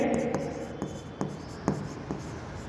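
A pen scratches out an entry for a prepaid insurance account in an accounting class, close steady scraping strokes punctuated by small taps at regular intervals, without talk over it.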